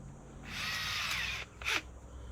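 A worn, well-used old electric drill bores a pilot hole in two bursts: a whining run of about a second, a short pause, then a brief second spin, with no talk.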